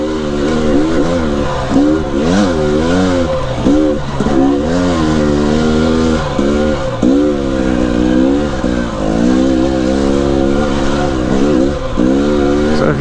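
A two-stroke dirt bike ridden at Kennedy Meadows, its engine revving loud and close in repeated rising and falling bursts as the throttle opens and eases, with no talk.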